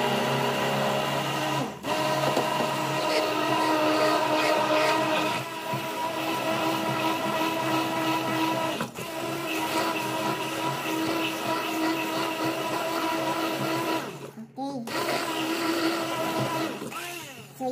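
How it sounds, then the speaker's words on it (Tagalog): An electric blender whirs continuously, mixing gelatin into a cream cheese filling for a no-bake cheesecake. The loud steady motor drone has a few brief dips and one short cutoff near the end, and no one speaks. "So, yan na po ang ating cheese. Na-blend na po natin siya."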